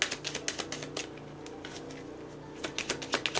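Tarot cards are shuffled by hand in quick bursts of crisp flicking clicks, quiet and close, with a pause in the middle before another rapid flurry.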